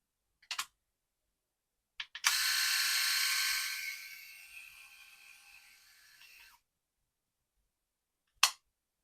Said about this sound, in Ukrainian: Тепер спробую в режимі тримера.